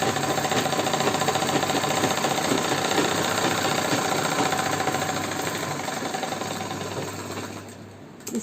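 A sewing machine runs steadily while stitching a Punjabi patiala salwar, a fast continuous mechanical whirr and rattle held close up with no break, easing slightly in the last second.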